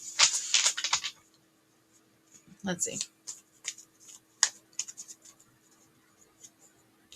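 Cards are riffled and shuffled in quick papery bursts, with a brief spoken phrase and some softer handling sounds afterward.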